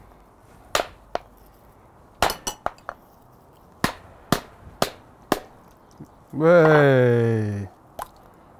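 Someone opening a coconut to drain its juice lands a series of sharp, isolated chopping strikes, close and loud. The blows come irregularly across the span, and a brief spoken word sits among them.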